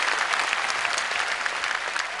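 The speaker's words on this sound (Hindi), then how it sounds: "एक बार जरा हाथ उठाकर तालियों की गूंज में बताइए ना कि कितना" A large crowd at a Tiger Force convention in Islamabad breaks into dense, sustained applause, a thick continuous roar of many hands clapping that fills the hall without pause.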